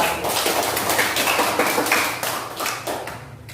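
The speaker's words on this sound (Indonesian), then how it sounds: "Tepuk tangan dulu untuk kelompok 1" A small group claps together in a steady patter of applause that fades slightly toward the end.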